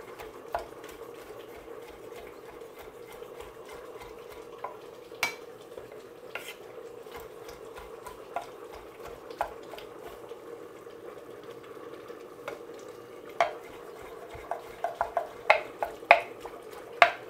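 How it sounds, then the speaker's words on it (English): Tender cooked beef being chopped up in a pan for a cottage pie, with a steady series of soft, sharp clicks and taps from utensil against pan, growing quicker and slightly louder near the end, with no talking. "So I just chopped up the beef, which is super tender already."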